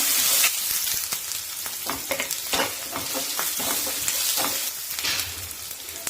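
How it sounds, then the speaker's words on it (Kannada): Onion, garlic and ginger sizzle in a pan, a steady frying hiss broken by the frequent scrape and clatter of stirring. No one speaks. "ಈಗ ಈರುಳ್ಳಿ ಮತ್ತೆ ಬೆಳ್ಳುಳ್ಳಿ, ಶುಂಠಿ ಇದನ್ನ ಫ್ರೈ ಮಾಡ್ಕೊಳ್ಳೋಣ"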